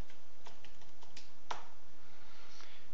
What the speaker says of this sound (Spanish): ponemos la contraseña